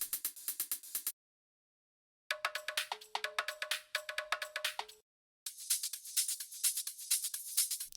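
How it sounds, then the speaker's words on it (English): Bright, busy progressive house hi-hat and percussion loops with crisp hi-hat ticks and metallic hits, playing in three separate bursts with short silent gaps between them. "And then we have some hi-hat loops and some percussion loops."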